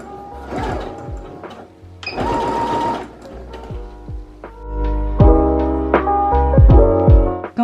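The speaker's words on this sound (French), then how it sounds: "je vais piquer à peu près à 5 mm du bord tout le long ici, en commençant par un point d'arrêt" A sewing machine runs a straight stitch about 5 mm from the edge of a beginner's rectangular pouch, beginning with a backstitch of three stitches forward and three back. Loud, close bursts of mechanical whirring start and stop several times, with no talking.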